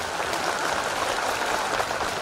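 Loud, sustained applause from a large audience at a religious gathering announcing a mass wedding list, an even wash of clapping with no talk.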